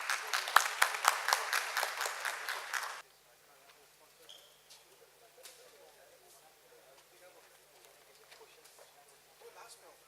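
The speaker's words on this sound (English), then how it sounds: "give a loud applause to Hasmukh Bhai for bringing us this show" Audience applause at the FAFAI 2019 event, a dense burst of many hands clapping loudly for about three seconds, then cutting off abruptly to a quiet room with faint scattered noises.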